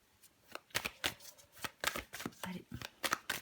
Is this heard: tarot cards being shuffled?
yes